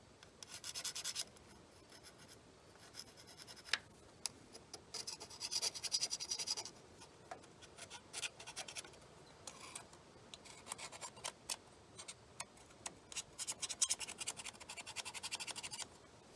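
Faint, irregular scratching and rasping as an old gasket is scraped off the lift pump of a John Deere 4010 tractor, short strokes coming in bursts with small pauses.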